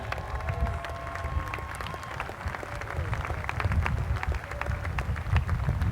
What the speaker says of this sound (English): Give them a great big round of applause, folks, as they go by.